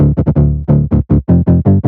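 A synth patch for atmospheric, ethereal sound design, run through a low-boosting EQ and sine wave distortion, plays a quick rhythmic run of about nine punchy, warm, bass-heavy notes, loud and alone.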